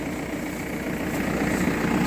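A tractor engine running in a millet field, a steady, fairly loud drone with broad rumbling noise and no breaks.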